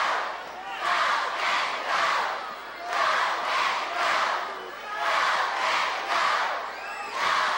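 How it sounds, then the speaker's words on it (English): A wrestling arena crowd roars and cheers in loud, surging waves that rise and fall every second or so, with a commentator's voice faintly under the noise. "But the crowd is for Kevin."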